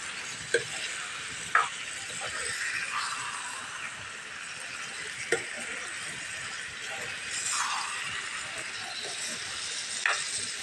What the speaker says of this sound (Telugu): చికెన్ కూడా చక్కగా మగ్గనివ్వాలండి, ఉడకనివ్వాలన్నమాట ఇందులోని